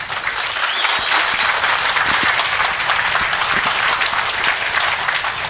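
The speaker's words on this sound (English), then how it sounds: "So a round of applause for them, please." A large crowd at a drag racing season-finale event applauds in a dense, steady roar of clapping that holds at full strength throughout, broad and loud with faint cheers mixed in.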